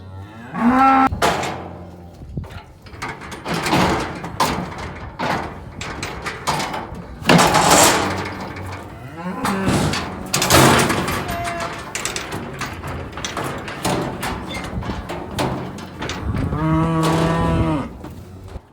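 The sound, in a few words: cattle mooing in squeeze chute during vaccination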